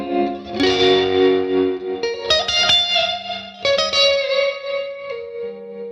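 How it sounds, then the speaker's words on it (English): An electric guitar through a Bad Cat Black Cat combo amp with reverb turned fully up plays sustained single notes and chords, each ringing out in a long, lush wash of reverb. "Now that we kind of got the idea of what it sounds like with that full reverb."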